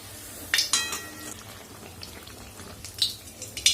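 Pitha batter fries in hot oil in a wok with a soft, steady sizzle, and a few sharp metallic clinks of a utensil sound over it.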